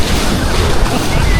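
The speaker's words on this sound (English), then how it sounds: "It's a pretty big wave." Big ocean waves at Canggu beach in Bali roar as a loud, continuous broadband wash of surf close to the microphone, with wind buffeting mixed in.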